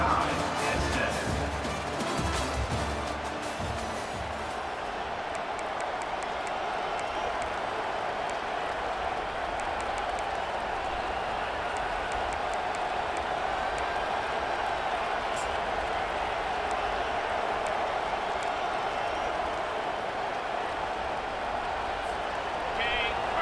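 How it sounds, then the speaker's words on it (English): Football stadium crowd in a college football video game, Dawgs versus Longhorns, a continuous broad roar of cheering that swells from the start and holds steady throughout, with a commentator talking over it. "And the crowd coming to life here"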